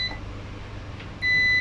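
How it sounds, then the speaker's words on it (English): A multimeter set to continuity mode gives a short faint electronic tone, then a steady beep of about half a second, over low room hum during laptop circuit testing. "you need to set your multimeter in beep mode"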